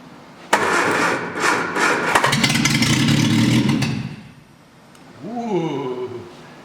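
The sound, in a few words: 1966 Triumph Spitfire engine starting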